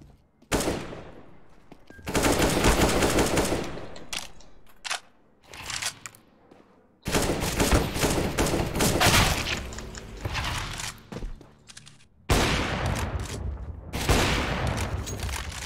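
Gunfire from Counter-Strike: Global Offensive during a competitive match: loud, dense bursts of rapid shots arrive in several long volleys separated by brief gaps, with no talking over them.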